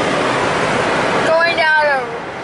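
A car wash dryer blasts a loud, steady roar of rushing air from inside the car at the end of the wash, and a voice speaks briefly over the blowing partway through.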